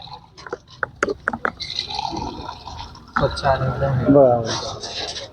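Water runs from a drinking-water filter at Tulja Bhavani Stadium, a steady splashing pour into a container that swells in the second half while someone talks over it throughout.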